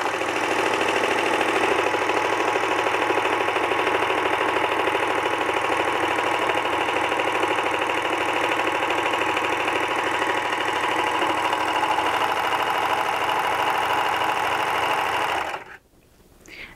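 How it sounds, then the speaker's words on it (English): A Baby Lock Celebrate serger stitches fabric with a three-thread overlock, a loud, fast, steady mechanical whirring and rattling heard up close for about fifteen seconds before it abruptly stops. "lift the presser foot up a little bit, get my fabric started underneath there, and start serging"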